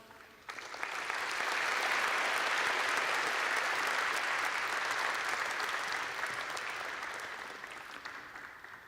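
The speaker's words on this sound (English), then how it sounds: "please give the newcomers, as well as their future NDA viewers, a warm round of applause" Warm audience applause at a university entrance ceremony in a large hall, a broad wash of many hands that swells after half a second, holds steady and full, then slowly thins toward the end.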